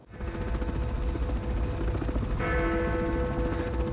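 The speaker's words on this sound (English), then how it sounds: "So we have victory bells ringing." Victory bells ring continuously in the film Edge of Tomorrow (2014), a dense, resonant clangor joined by brighter sustained tones partway through and a low rumble underneath.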